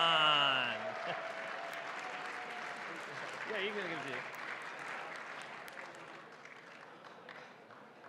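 An audience applauds a gold medal winner at an awards ceremony, a sustained wash of many hands clapping that slowly thins out, with a voice talking over the start.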